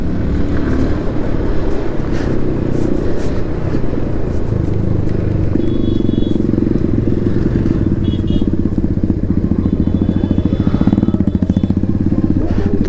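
Motorcycle engine revving loudly and continuously during a crowded bike race gathering, a steady throbbing roar with rising pulses near the end, close and dominant throughout.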